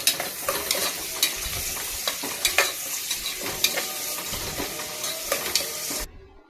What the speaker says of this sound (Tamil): வதக்கிய பிறகு பொன்னிறமாக வதக்கிய பிறகு